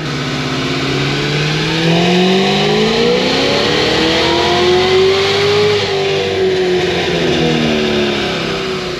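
A Cadillac CTS-V engine revs hard and continuously through a full pull, pitch sweeping up and then easing back, loud and close with no talk over it.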